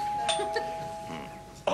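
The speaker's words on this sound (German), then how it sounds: "Ich nehme an, das war die Türklingel." A short electronic doorbell chime rings out clearly in a quiet room, a few bright tones with a steady ringing note beneath.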